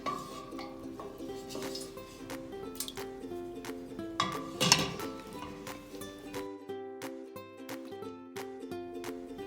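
A mashed chickpea mixture is stirred into a pot of cooked vegetables and chickpeas for pasta e ceci, with scattered spoon clinks and soft wet scraping over a constant tonal background.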